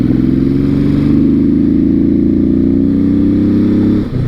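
A Honda VTX1800R motorcycle's big engine rumbles deep and loud from close by, holding a throaty rising rev before dropping off abruptly at the end; no talking.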